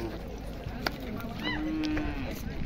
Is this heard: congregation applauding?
no